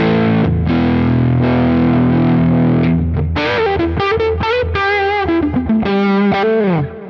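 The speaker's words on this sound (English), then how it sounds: "when you roll the fuzz back on the control, even though I'm still on my bridge pickup, it's a very kind of muffled sound" An electric guitar on the bridge pickup runs through a fuzz pedal model on a Quad Cortex with the fuzz turned low, giving a muffled distorted tone: a sustained chord followed by a run of bending single-note licks, loud and close.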